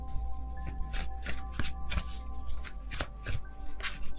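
Tarot cards being shuffled by hand, a continuous close riffling and flicking with rhythmic slaps against a low steady hum, no talk.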